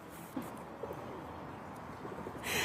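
Soft, low cooing of pigeons in an open outdoor city park, repeated faintly against a steady background hum.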